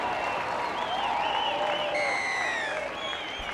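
A rugby league stadium crowd applauds and cheers in a continuous roar during a women's test match between Sanderson Academy and Nigeria, with whistles and shouts rising above it.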